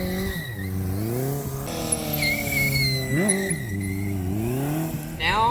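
A motorcycle engine revs and swoops in pitch as the rider drops the clutch mid-slide while drifting, loud and close, with sharp throttle rises and falls and a brief tire squeal near the end.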